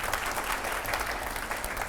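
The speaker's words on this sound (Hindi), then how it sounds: "अरे ताली तो बजाओ, इतनी अच्छी बात कह रहा हूँ" A studio audience on a TV news programme claps steadily, a dense, even burst of applause throughout with no voices.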